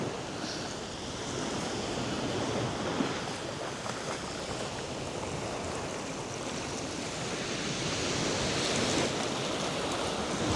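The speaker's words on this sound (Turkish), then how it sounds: "Yalta sahili de işte böyle. Hatta bakın dalga buralara falan kadar da geliyor." Sea waves breaking continuously on the shore of Yalta beach in Crimea, a steady broadband surf wash with rolling swells and no voices, fairly loud and close throughout.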